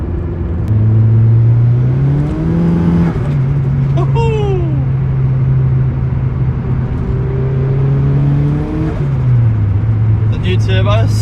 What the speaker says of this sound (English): Listen to that clutch slip.